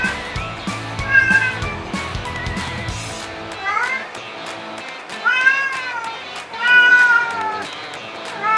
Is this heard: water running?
no